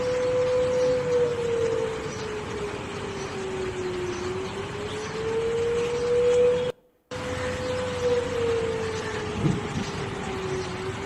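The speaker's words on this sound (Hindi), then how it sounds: "सायरन लगातार पाकिस्तान के अलग अलग हिस्सों में बज रहे हैं, जिनकी आवाज़ आप भी सुन पा रहे हैं।" An air raid siren wails across Pakistan, a single sustained tone slowly rising and falling, loud and carrying, with a brief cut partway through and no speech.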